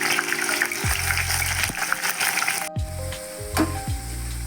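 Bitter gourd pieces sizzle and fry in hot oil in a close, steady hiss, broken by a few knocks and scrapes of a utensil against the pan.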